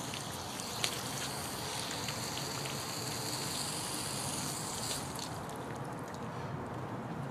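Water gushes from the end of an expandable garden hose after the faucet is shut off, a steady, close hiss and splatter of liquid running for several seconds with faint drips.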